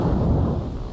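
A torpedo strikes a ship in the naval combat game War on the Sea, giving a brief, heavy low rumbling boom that is muffled and fairly loud, with no voices over it.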